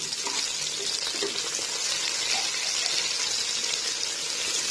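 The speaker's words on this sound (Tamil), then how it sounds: "கூட அதையும் போட்டு நல்லா வதக்கிக்கலாம்" Mint and coriander sautéing in oil for a Hyderabadi mutton biryani, giving a dense, continuous hiss of frying that stays even and close throughout, with faint stirring underneath and no voices.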